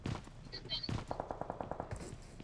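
Rapid automatic gunfire bursts from the battle royale game BGMI, played in a scrim match, crack out in quick repeated volleys across the moment, with faint voice chat underneath.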